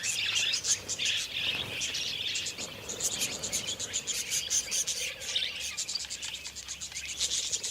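Wild budgerigars chirping during courtship on a riverbank in Australia's central ranges, a dense chorus of rapid high twittering calls that carries on steadily with no gaps.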